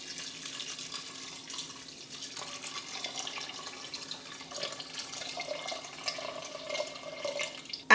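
Water being poured into a pressure cooker holding chickpeas, a soft steady splashing and trickling that gradually rises in pitch as the pot fills, ending with a quick clunk.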